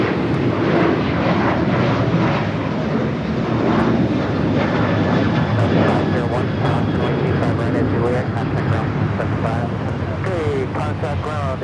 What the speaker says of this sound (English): That flight was heading to Bozeman, a 737-800 United.